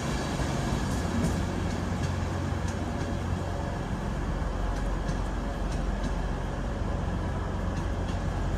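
Class 91 electric locomotive 91112 with driving van trailer 82209 in Christmas livery pulling out of platform 3 at London Kings Cross, a continuous rumbling roar with faint rail clicks, steady and fairly close.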